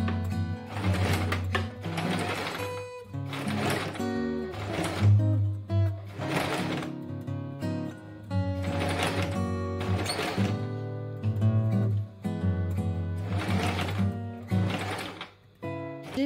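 A sewing machine stitches a waistband onto a sequined wrap skirt in repeated bursts of rapid mechanical whirring and clatter, separated by brief pauses, close and clear with no speech.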